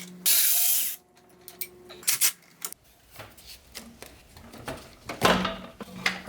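A ratchet works a bolt on the crossover tube of a BMW E30 325i engine, giving a quick burst of clicking followed by scattered metallic clanks and tool handling, close up and moderately loud.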